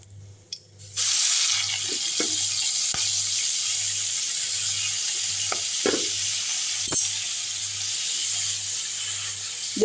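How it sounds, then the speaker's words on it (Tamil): Greens dropped into hot ghee in a pan burst into a loud, steady hiss that continues for several seconds, with a few clinks of a utensil against the pan and a low hum beneath, no voices. "இப்போ கீரை எடுத்து போட்டுடலாம்"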